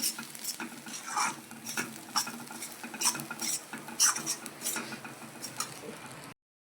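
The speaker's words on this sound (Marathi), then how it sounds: "टाकून घेऊ आता हा चुरमा आणि ह्याला भाजून घेऊ मस्त असं" Crumbled pieces of leftover chapati being stirred and roasted in a pan, with a spoon scraping and clinking against the metal in an irregular rhythm over a soft sizzle, close up with no talking.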